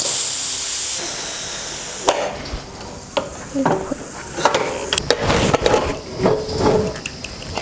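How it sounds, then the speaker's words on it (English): Steam hisses loudly from a pressure cooker as its pressure is released after cooking goat curry. A strong rushing hiss lasts about a second, then gives way to intermittent clatter and handling noises. "I'm going to release the air first."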